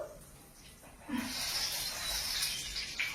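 Cumin seeds hit hot oil in a wok over a gas flame and burst into a loud, bright sizzle that rises suddenly and keeps hissing steadily.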